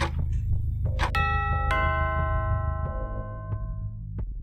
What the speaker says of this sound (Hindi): घर की डोरबेल बजी।